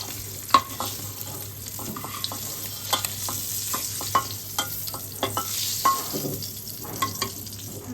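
Diced potatoes fry in hot mustard oil in a pan, a soft continuous sizzle punctuated by irregular clinks and scrapes from stirring, close and without speech.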